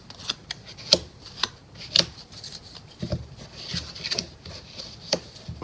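A tarot deck is shuffled by hand, giving soft, irregular papery taps and flicks, close and quiet, with no talking.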